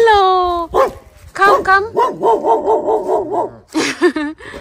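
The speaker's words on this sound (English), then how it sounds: "There's that beautiful dog." A dog guarding a village house barks in a rapid series of loud, close woofs, with a person speaking briefly before and after the barking.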